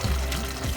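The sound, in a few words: water being added to mutton curry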